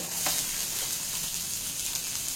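Beans and carrot frying in a pan, a soft, steady sizzle held at a low level for a couple of seconds, with a faint crackle near the start.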